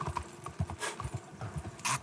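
Horse hooves clip-clop along the streets of Saint Denis in Red Dead Redemption 2, a steady, quick rhythmic clatter of footfalls with faint city ambience behind.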